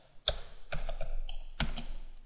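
Keys tapped on a computer keyboard while entering code for a tiled background in Allegro 5, a few separate bursts of clicking close by with short pauses between them.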